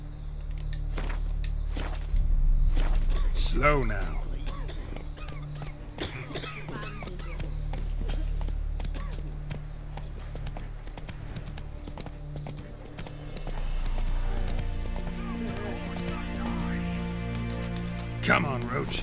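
Hoofbeats of Roach, Geralt's horse in the video game The Witcher 3, clopping steadily at a walk and picking up pace, mixed with game music and ambient sound, with a voice talking over parts of it.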